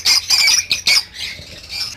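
Cockatiels or lovebirds in a breeding cage give a run of sharp, shrill parrot squawks, several quick loud calls close by in the first second, then softer chatter trailing off, with no voices.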